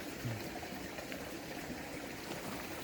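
A mountain stream flows steadily, a soft, continuous wash of water with faint trickling, heard alone and fairly quiet.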